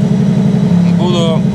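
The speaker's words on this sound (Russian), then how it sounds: "Сбрасываем обороты на двигателе." A light aircraft engine hums steadily and loudly at reduced revs during a flight with a landing-gear failure, while a person talks over the drone.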